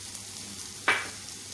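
Tomatoes fry in a pan with a low, steady hiss and one short, louder sputter midway.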